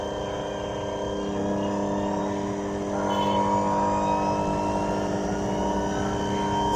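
An electric motor runs with a steady multi-toned whine and hum that steps up in pitch and loudness as it speeds up, building to a stronger sustained drone midway.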